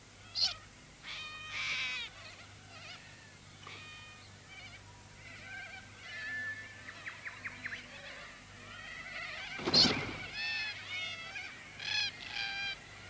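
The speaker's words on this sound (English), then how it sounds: "Red-tailed blacks add their colour, and their voices too." Red-tailed black cockatoos calling in Australian woodland, a string of harsh, grating squawks and rolling calls, moderately loud and fairly close, with one burst louder around the middle and no talking.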